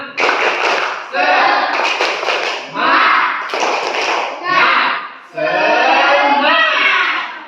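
A class of children performs a rhythmic clapping chant, bursts of loud, close hand claps in a patterned beat alternating with their chanting voices, pausing briefly between phrases.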